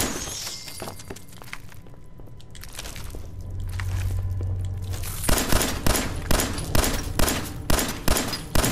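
Rapid volleys of gunfire in Fallout 4, a dense run of sharp, loud shots in the second half after a quieter stretch with a low rumble, set against game ambience.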